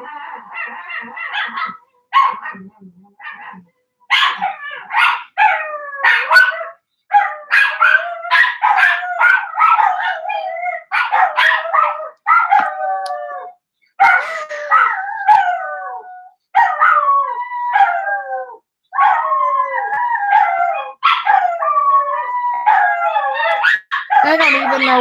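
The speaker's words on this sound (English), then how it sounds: "They don't even know what they're barking about." Several dogs bark and howl indoors in a living room, a loud, continuous chorus of overlapping yips and drawn-out howls with brief pauses, close to the listener.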